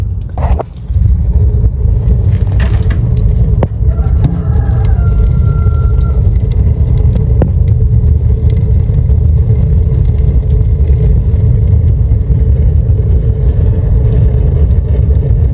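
A loud, constant low roar of a wood stove fire drawing air strongly in a 12x18 workshop, steady and close, with a brief crackle and click near the start.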